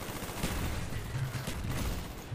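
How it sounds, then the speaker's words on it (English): Dense, sustained gunfire from an AUG rifle in Call of Duty Black Ops on PC roars as a continuous rattling wash of shots, moderately loud and unbroken for the whole stretch. "I hate the recoil pattern on this gun."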